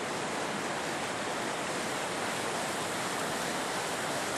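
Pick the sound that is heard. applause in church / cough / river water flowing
river water flowing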